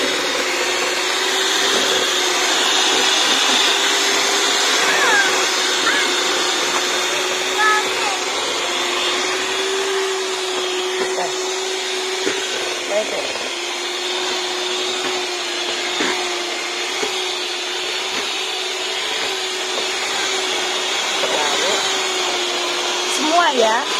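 An electric mixer beats eggs for cake batter with a continuous high whirring motor drone, steady and close throughout with slight pitch wavering as the beaters move, while someone talks faintly under it.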